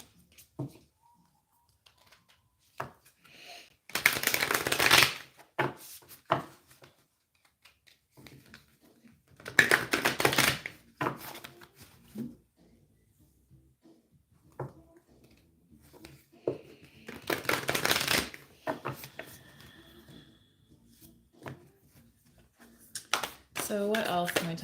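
Moonology oracle cards are shuffled in several separate bursts of rapid riffling and flapping, spread across quiet gaps, with a person talking between and over them.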